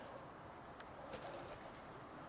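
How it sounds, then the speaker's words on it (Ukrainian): Soft cooing of a dove, faint and distant beneath a steady wash of background noise. "Це стара голубочка."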